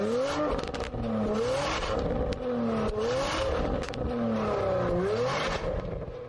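Porsche Macan GTS on its stock exhaust revving repeatedly, engine note rising and falling in several close, loud sweeps with a rough, throaty tone.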